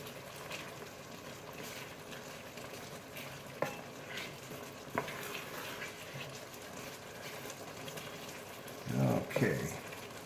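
Ingredients being stirred into a simmering pot of beef stew, with soft scraping and spoon knocks over a low bubbling hiss, a couple of sharp taps, and a louder clatter near the end.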